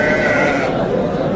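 A sheep or lamb bleats close and loud at the Khujaobod sheep bazaar in Andijan, one drawn-out wavering cry over crowd noise.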